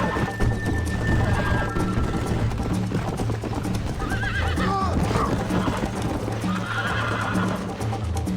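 In Red Dead Redemption, a horse's hooves clip-clop steadily and close up while it neighs and whinnies partway through, all over a dense rumbling game soundscape.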